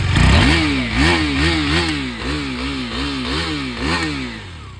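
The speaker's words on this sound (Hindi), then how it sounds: "पहले आप लोगों को इसका साउंड सुनाते हैं, एग्जॉस्ट जो कंपनी फिट है।" A stock factory-fitted exhaust on a KTM Duke 390 BS6 motorcycle revs repeatedly, climbing and dropping in a steady series of about eight close, loud blips with no talking.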